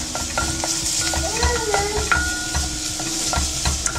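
Garlic is stirred fast in hot ghee: a steady sizzle runs throughout, with a spoon scraping and clicking against the pan, and a faint tonal whine sits in the background.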